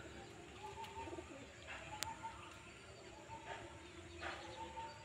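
Pigeons perched outside a house coo softly and repeatedly at a distance over low outdoor background noise.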